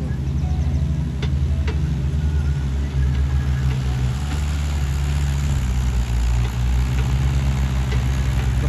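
Mahindra 575 DI tractor engine labouring under a heavy load as it pulls free of a stuck spot, a steady low diesel drone with throbbing pulses and a slight shift in pitch midway.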